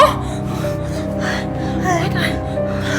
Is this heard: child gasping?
yes